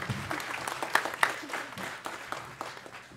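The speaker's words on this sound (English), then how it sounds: "Give God a hand clap of praise for the Clark Atlanta University Philharmonic Society." Worship congregation clapping in a steady burst of hand claps after a choir performance by a university philharmonic society, dense and continuous for a few seconds with a few sharper claps standing out.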